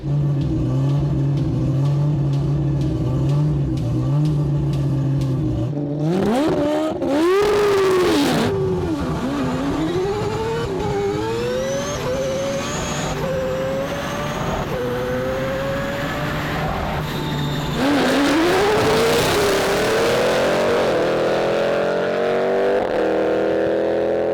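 An AWD four-rotor rotary race car launches and accelerates, its loud, buzzy engine note climbing repeatedly through the gears after a steady idle, close and dominant throughout.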